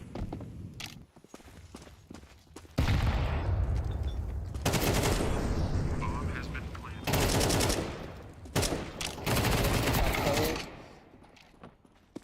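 Rapid automatic gunfire from a Counter-Strike 2 match, loud bursts of sustained spraying broken by short pauses, with footsteps and game sounds between the volleys.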